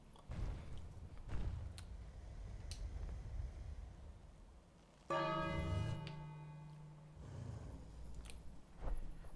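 A church bell in the King's Quest video game rings faintly, with a sustained metallic tone swelling in the middle and fading over low background rumble and occasional thumps.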